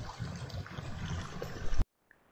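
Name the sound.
mountain water spout flowing on Merbabu trail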